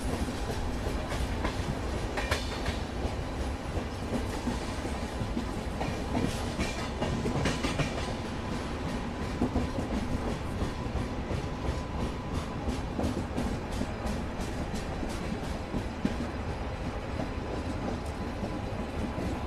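Express train on an Indian line rolling slowly from a loop line onto the main line over track change points, a steady rumble with repeated clickety-clack wheel beats and faint wheel squeal, continuous and close, no talk.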